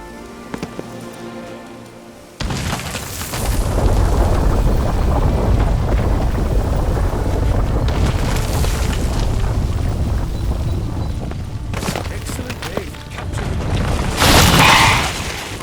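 A bomb in The Witcher 3 bursts into a long roaring, rumbling blast that sustains like heavy rain for several seconds, followed by further loud crashing bursts near the end.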